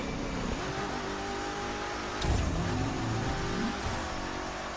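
Car engine racing in The Crew 2 on a snowy road, a steady loud drone that swells briefly partway through, with no talk.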